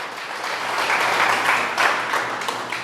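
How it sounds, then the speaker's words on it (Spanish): A church congregation applauds together in steady, sustained applause that fills the whole stretch at an even level, with no talk over it. "Denle un aplauso a Dios."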